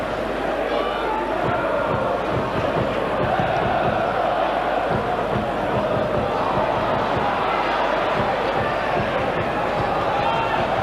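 A football crowd at a 1999 FA Cup match between Huddersfield Town and Liverpool, a loud, constant stadium roar of chanting and murmuring that never lets up.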